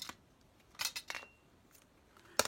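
A few sharp scissor snips cutting lace, spaced apart in quiet, with a final crisp cut near the end.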